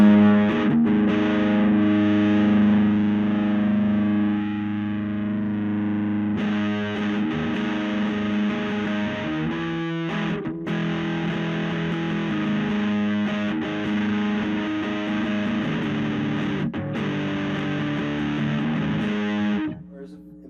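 A distorted electric guitar through a Joyo Uzi R-03 gain pedal plays gritty, crunchy sustained chords and riffs, loud and dirty, with short pauses between phrases.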